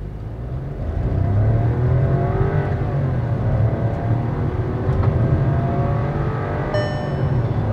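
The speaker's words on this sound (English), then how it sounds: "The engine does rev till 6000 RPM, but then when it reaches that 6000 RPM, there is that split second of a lull when that gear change happens" A Skoda Slavia's 1.0-litre engine with automatic gearbox revs hard in sport mode, a loud, steady climbing drone close to the car that holds for several seconds with no talk over it.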